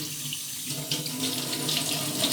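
Tap water runs steadily into a kitchen sink while a peeled carrot is washed under it, close and moderately quiet with a soft splashing hiss.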